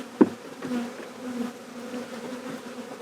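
Honey bees buzzing around an open hive during a spring split, a steady close drone with a sharp knock near the start, no voices.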